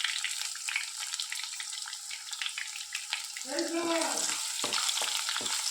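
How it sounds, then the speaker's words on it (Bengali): Chopped onions frying in a pan for a vegetarian jackfruit dish, a bright steady sizzle with brief stirring scrapes, and a short faucet-like water sound near the end. "পেঁয়াজটা একটু প্রথমেই ভাজা ভাজা করে নেব।"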